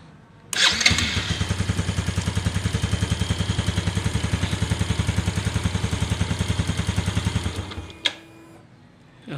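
A Yamaha Sight motorcycle engine idles in a fast steady putter after starting, then cuts out abruptly when the kill circuit is tested, leaving a brief clunk and near silence; close and fairly loud.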